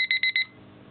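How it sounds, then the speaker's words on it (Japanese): An iPhone voice-control app sounds its Alarm 1 wake-up tone: four quick, bright electronic beeps in an even rhythm, loud and close, then a quiet tail with no talk. "目覚まし音声はアラーム1です"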